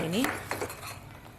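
A spoon clinks and scrapes against a pan while salt and garam masala are stirred into an Egg Curry, giving a few quick metallic knocks close up and then quieter scraping without talking.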